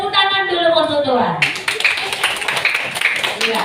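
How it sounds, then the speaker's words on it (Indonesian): After a brief stretch of singing voices, Sunday school children at a Christmas celebration break into a burst of rhythmic hand clapping that continues steadily to the end, with a few voices mixed in. "Tepuk tangan dulu untuk Tuhan."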